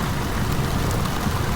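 Rain pours down steadily with gusting wind near a freshly mowed lawn, a dense, even wash of noise with no talking.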